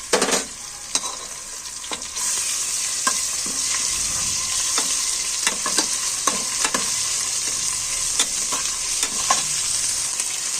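A spoonful of ginger paste fries in a hot pan with a loud, constant sizzle, while a spatula scrapes and taps against the metal in quick, uneven strokes nearby.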